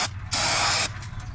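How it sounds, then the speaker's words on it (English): Brake parts cleaner sprays onto a Kia Rio drum brake in one steady hissing burst of about half a second, close and loud, set against a low background hum. "Spray everything down really well."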